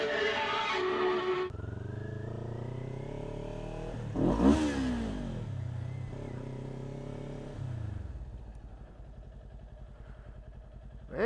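A green Kawasaki Ninja motorcycle idles close by, then revs up in two rising surges that peak sharply and fall back to a rumbling idle, loud and unaccompanied by talk.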